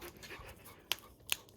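A dog pants softly and steadily nearby in a home kitchen while waiting for green beans, with two sharp clicks partway through and no talk.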